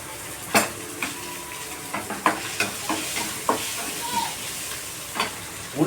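Eggs being stirred in a large pan over heat: a constant sizzle broken by repeated clanks and scrapes of a utensil against the pan, close and fairly loud.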